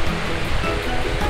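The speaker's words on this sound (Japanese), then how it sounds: "あそこに川が流れてるのがよくわかります" A river flows far below a cliff on a mountain hiking trail at night, a steady, unbroken rushing of water heard from above at a moderate level.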